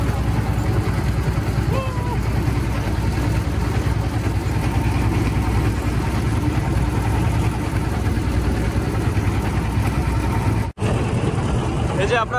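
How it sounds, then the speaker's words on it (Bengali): A large passenger launch on a river drones past with a steady, loud low engine rumble that holds for most of the stretch before cutting off abruptly near the end, with some bird calls overhead. "এখানে একটা বড় ধরনের একটা লঞ্চ যাচ্ছে"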